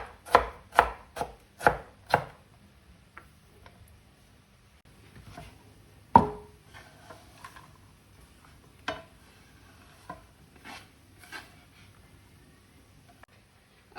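A knife chops potatoes finely on a board, opening with a quick run of five sharp cuts, then scattered single chops with short gaps between them, close and crisp.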